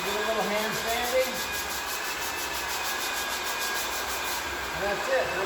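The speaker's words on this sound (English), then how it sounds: "Do a little hand sanding." Steady, rhythmic scraping and rubbing of sandpaper on an old wood floor, hand sanding, continuous and close, with a faint background hum.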